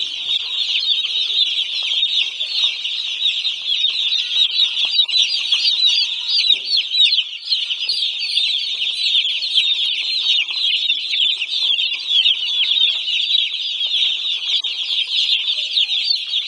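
A dense chorus of high-pitched cheeping from many one-day-old chicks, continuous and fairly close, with no voices.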